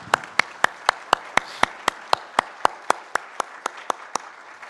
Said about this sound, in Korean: 우리 한번 큰 박수 보내주시죠